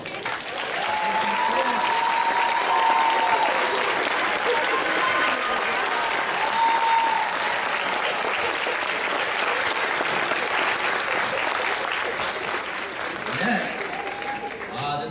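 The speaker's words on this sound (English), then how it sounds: "please stand up and let us give you a round of applause too" Sustained audience applause for the project sponsors at a school system student film and media festival, steady and dense for about fifteen seconds with a few cheers and voices mixed in.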